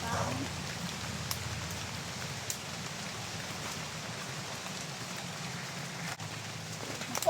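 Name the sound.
rain falling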